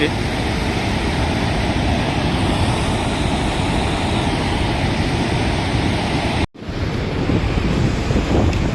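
A loud, continuous roar of water rushing through two open gates of Kanjhari Dam fills the scene, heavy and unbroken, with wind buffeting the microphone and a brief dropout near the end.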